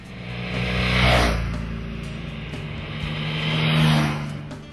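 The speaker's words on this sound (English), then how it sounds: "skies clear and blue as Bryan Niebuhr and I headed out the river road south of Baton Rouge on a pair of BMW demos" BMW F800R and 1600 GTL motorcycles ride along a river road south of Baton Rouge, engines humming steadily with two swelling passes as the bikes draw near and pull away.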